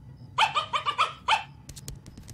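A dog in the animated sitcom The PJs barks five times in quick succession, loud and close, followed by faint clicking and rustling with no talk.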